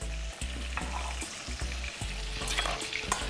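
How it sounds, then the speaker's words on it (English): Chicken searing in a hot pan while Chicken Marsala is prepared, giving a continuous close sizzle and frying hiss with occasional sharper clicks and clatters, and no one talking. "sear it about a minute, minute and a half on each side"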